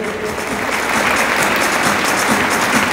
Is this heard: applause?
yes